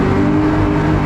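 An F250 outboard motor pushes a 2018 Alumiweld 23 Super V tiller jet boat, giving a loud, steady, close engine roar with a low rumbling tone and no voices.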